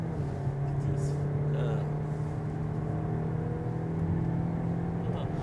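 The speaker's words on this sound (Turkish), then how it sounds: "Ha biraz gazlayalım abi istersen." A Toyota Corolla engine pulling under throttle from inside the cabin: a steady, droning hum that holds fairly even throughout, with some talk over it.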